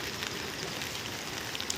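Rain falls steadily at Kedarnath in the mountains, a constant dense hiss with no breaks and no voices over it.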